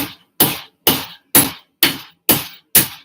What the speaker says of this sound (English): I'm forging. Yeah, it's hammer time.